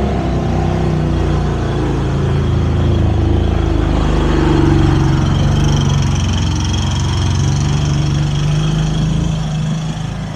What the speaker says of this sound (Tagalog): Lakas ng motor.